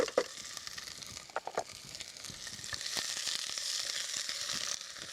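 Onions and shallots sizzle in hot oil in a pot on the stove, a close, steady frying hiss with a few sharp crackles and spoon clicks early on, alone without talk.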